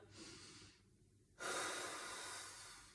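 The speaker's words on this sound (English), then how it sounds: "Come back, inhale, and exhale." A person doing a core exercise takes a soft inhale and then lets out a long, forceful exhale close to the microphone that slowly fades.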